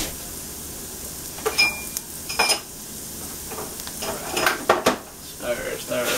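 Gumbo being stirred in a pot, a few scraping and clinking strokes with faint sizzling beneath, fairly close and moderately loud, no talking over it.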